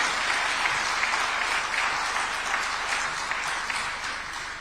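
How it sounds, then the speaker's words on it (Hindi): Loud, sustained applause from an audience welcoming Chief Minister Dr. Mohan Yadav, a thick, even wash of clapping that holds throughout and eases slightly at the end. "जोरदार तालियों से स्वागत करें, जोरदार तालियों से"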